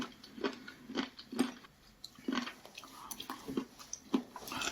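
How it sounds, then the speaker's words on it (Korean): Close-up chewing of raw shellfish, firm and slightly wet, a steady rhythm of soft crunchy bites about once a second, with no talking. "여러분들 지금 제가 씹는 소리 들리시죠?"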